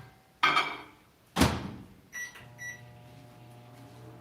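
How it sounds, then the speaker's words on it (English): A microwave oven heating leftover pad thai in glass jars: two solid thuds of the door, a few short electronic beeps, then a low steady hum as it runs, quiet and close. "Not sure if it's safe to put all my glass jars straight in the microwave like that."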